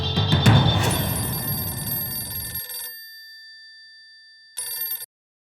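A telephone rings on a Hindi TV drama set, steady electronic ringing over a low rumbling bed, then a short burst of ringing returns after a pause.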